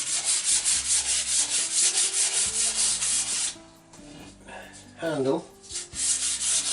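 Close, steady back-and-forth rasping of 240 grit aluminium oxide sandpaper on the wooden handle of a vintage blacksmith-made garden hoe, strong rhythmic strokes for several seconds, then a pause, a brief spoken word, and a few more strokes.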